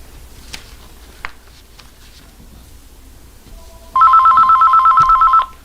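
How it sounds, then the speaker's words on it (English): A telephone rings in a quiet room, a loud electronic trilling burst starting after a few seconds of near silence with faint background clatter. "Damn phone's ringing."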